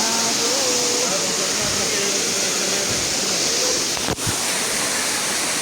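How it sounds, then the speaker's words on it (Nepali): A small waterfall near a temple gives a constant, close, broadband rush of falling water, with voices faintly heard over it. "लास्टमा झर्ना चाहिँ यही हो है"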